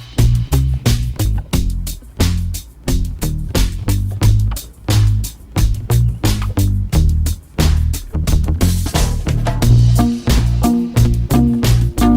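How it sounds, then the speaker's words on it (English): Rough band mix of electric guitar, bass, acoustic guitar and drums playing together, loud and driving with steady punchy drum hits and dense strummed chords, briefly dropping out a few times before resuming. "all the parts are recorded: electric guitar, the bass, and the acoustic guitar all together with the drums"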